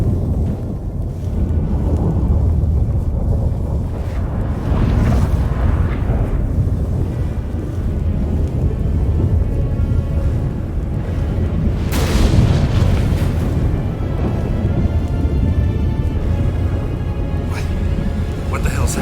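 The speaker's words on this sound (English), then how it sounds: "That a storm?" A thunderstorm rages in The Witcher 3, loud rumbling booms and gusting wind filling the whole stretch, with a sharp crack of thunder midway, while voices speak over the din.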